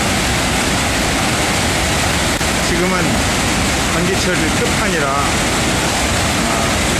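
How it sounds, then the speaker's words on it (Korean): Victoria Falls in the dry season, with reduced water flow, gives a steady broad roar of falling water while someone speaks over it. "여기는 빅토리아 폭포입니다."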